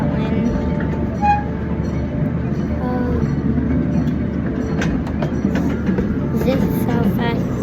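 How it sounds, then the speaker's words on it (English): Zoo train rolling along under steady rumble with faint clacking and occasional squeals, voices talking over the ride. "This is how fast the train goes."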